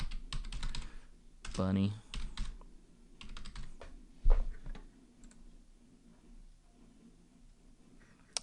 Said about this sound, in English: I'm going to type in Easter